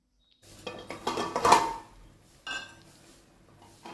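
A bowl of fried ingredients tipped into a cooking pot for a small-fish and tamarind-leaf curry, with clinking and scraping of metal bowl against pot in a short burst, then a softer knock.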